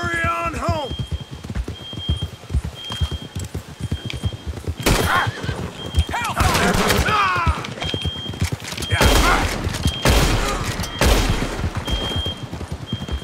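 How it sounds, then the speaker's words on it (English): Bursts of gunfire in Red Dead Redemption 2 ring out in rapid clusters over galloping horse hooves, rain and a whinny, with someone talking at the start and between the shots. "Who's shooting at me?"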